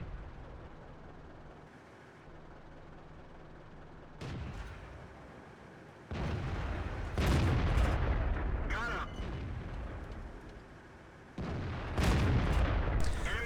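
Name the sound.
tank guns firing in World of Tanks video game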